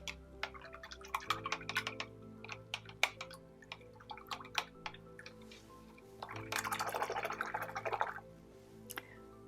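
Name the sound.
washing a paintbrush in water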